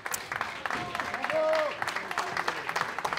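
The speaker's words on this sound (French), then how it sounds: "On applaudit bien fort." Audience applause at the prize ceremony of a 2014 QubicaAMF bowling event, a steady patter of clapping with a commentator's voice talking over it.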